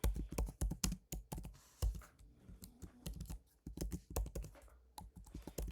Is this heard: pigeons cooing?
no